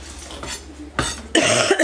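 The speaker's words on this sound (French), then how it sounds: "Je suis en train de couper ma courge, faisant attention de ne pas me couper un doigt. Je suis en train de l'éplucher." A squash being cut and peeled by hand in a home kitchen: soft scraping and knife strokes, followed by sharper, louder cutting clatter in the last half-second, with low hum throughout and no talk.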